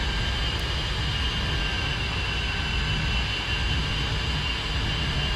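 Airplane engine in a flight simulator video game, a steady, loud, continuous drone of engine and airflow holding evenly throughout without a break.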